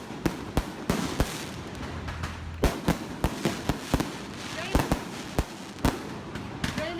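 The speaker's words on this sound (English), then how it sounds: "Just kidding, the fireworks were for a wedding" Fireworks set off for a wedding near a Panama beach resort, a run of sharp separate bangs at uneven intervals, some loud and close and others softer, with faint crackle between them.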